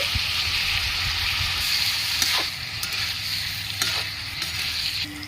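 Watermelon rind curry being stirred in a pan with the lid just off, a steady broad sizzle of frying with occasional spoon scrapes and light knocks against the pan, close and continuous with no talking.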